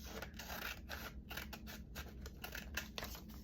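Scissors snip through paper, cutting a pocket for a holiday journal: a quick run of faint, close, rhythmic clipping sounds, no voices.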